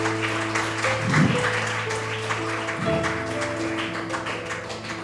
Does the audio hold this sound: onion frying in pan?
no